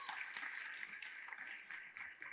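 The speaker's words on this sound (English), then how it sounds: "Please give her a round of applause." A conference audience applauds a speaker at a plenary session, with sustained, moderately faint clapping heard from a distance that lasts the whole two seconds.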